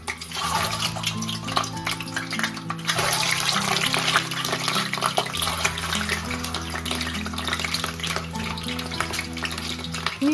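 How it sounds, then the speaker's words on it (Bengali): Boiled eggs frying in hot mustard oil in a pan, a steady loud sizzle and crackle with a constant low hum running beneath it throughout. "তেল এখানে গরম হয়ে এসছে, এবার একে একে ডিমগুলোকে ছেড়ে দেবো ভাজবার জন্য।"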